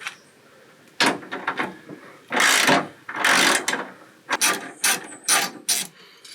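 Ratchet wrench loosening bolts on the wiper motor bracket of a Mitsubishi Montero, heard as several close bursts of rapid clicking separated by short pauses, with no voices.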